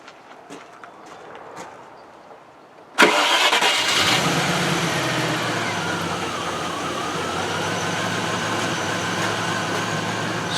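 A Range Rover with a fuel pressure fault cranks briefly and fires up abruptly, then settles into a steady, smooth idle that runs on loudly and close, after quiet background sounds.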